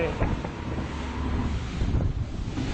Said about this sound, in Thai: คลื่นนี่ คือเราฝ่ามรสุมคลื่นออกไป